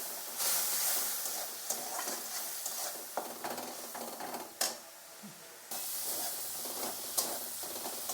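Small fish curry with taro and tomato being stirred in a pan after water is added, giving a continuous close sizzle and hiss with scraping stirs and a few sharper clinks.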